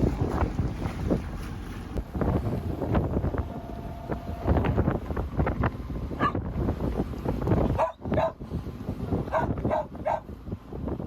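Wind blows over a sailboat at sea, a continuous rushing buffeting against the microphone with gusty surges and some splashing and creaking mixed in.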